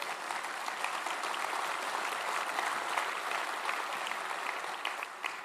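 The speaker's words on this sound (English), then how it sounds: "So yeah, give them a round of applause." A luncheon audience gives a sustained round of applause, a steady dense wash of many hands clapping at even loudness with no let-up across the whole stretch.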